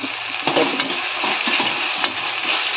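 Tomatoes with rock salt sauté in a pan, giving a dense, close, steady sizzle with a few soft stirring knocks over its short span, no one talking.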